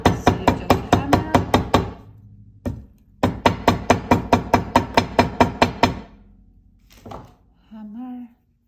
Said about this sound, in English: You want to make this frame very stable. So you just hammer.